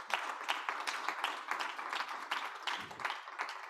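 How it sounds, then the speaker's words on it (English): Audience applause at a foundation's annual general meeting, a close, lively patter of many hands clapping at a steady, even level for a few seconds. "I think you can give yourself a great applause for that"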